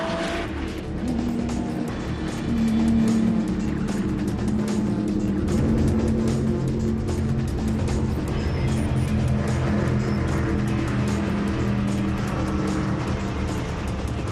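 A sport compact car at full throttle along a race circuit's front straight toward the start-finish line. The engine drones loud and steady with a sustained roar and no talk.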